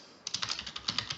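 Code being typed on a computer keyboard while setting up a DirectX 11.1 program on Windows 8, heard as a quick irregular run of close, crisp key clicks with no talking.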